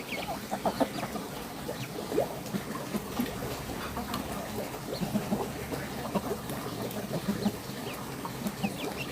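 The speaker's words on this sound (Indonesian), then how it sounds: "Oh, ayam pun suka ya, saya kasih pelet ayamnya ya." Chickens cluck softly and repeatedly while pecking at feed pellets, a busy, scattered chatter of short calls over a steady background hum.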